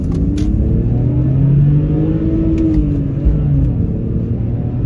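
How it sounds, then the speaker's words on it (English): A BMW 3 Series sedan engine revs hard to redline in first gear, a loud, close, continuous roar whose pitch climbs and then eases slightly as the car accelerates. "That was redlined in first gear."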